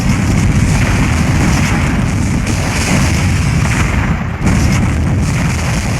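Artillery and gunfire in the strategy video game Warzone 2100, a loud, dense, continuous barrage of booms and shots with no pause, heavy low rumble throughout.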